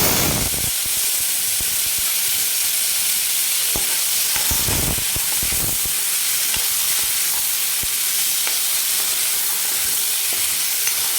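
Tomato hits hot oil in a pan where mustard seeds have already crackled, giving a steady loud sizzle and hiss of frying with a few sharper crackles and stirring bursts throughout.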